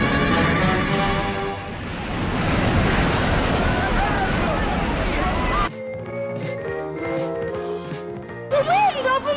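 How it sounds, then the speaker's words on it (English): Theme park water feature simulating the parting of the Red Sea: loud, continuous rushing and surging water with a windy roar that shifts abruptly to splashing and churning, with voices talking over it. "a simple water feature meant to simulate the parting of the Red Seas"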